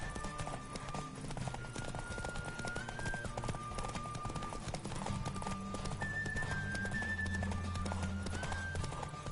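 A horse gallops in the video game Witcher 3, its hooves beating in a rapid, steady clip-clop rhythm throughout, with soft game music playing underneath.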